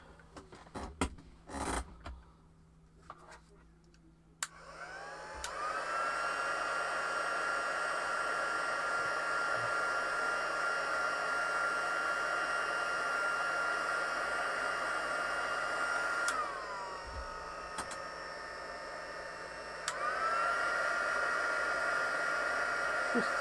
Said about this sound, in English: I'm going to use the heat tool